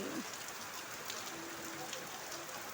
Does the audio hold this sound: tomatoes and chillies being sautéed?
no